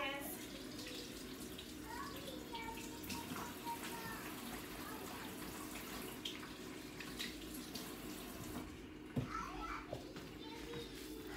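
Tap water running steadily at a kitchen sink during hand washing, a constant faint hiss with children talking and playing in the background.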